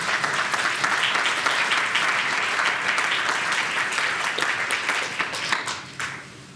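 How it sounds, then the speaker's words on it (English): A lecture-hall audience gives sustained, dense applause to welcome law professor Michael Klarman for a Last Lecture Series talk. The clapping holds steady and full, then thins out near the end. "Please give a round of applause, please."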